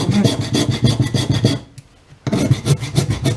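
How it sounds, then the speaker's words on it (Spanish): A wood rasp files a block of alabaster in steady, rhythmic back-and-forth strokes, with a short pause midway before the scraping resumes, close and loud with no talk. "Con una escofina, una lima de madera, incluso en bruto, pues se puede."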